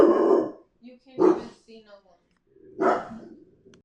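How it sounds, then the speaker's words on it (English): A dog barks in a broadcast studio during a College Football 26 game, giving a few sharp, close bursts that sit among and overlap a commentator's speech. "Sound like there was a dog in the studio"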